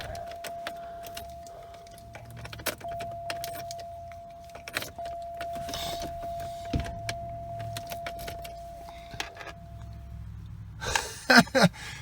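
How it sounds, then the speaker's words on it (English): Power memory seat motors in a 2003 Cadillac DeVille DHS whir inside the car with a steady electric hum lasting about ten seconds, with clicks and small interior handling noises around it and a brief jingle of keys near the end. "Memory seats."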